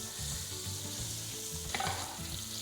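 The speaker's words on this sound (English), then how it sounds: "we are going to add our butter, or vegan butter, sorry. Just gonna let that melt." Vegan butter melts and sizzles in a hot pan beside browned vegan burger patties, a steady close frying hiss with a few small pops and no talk.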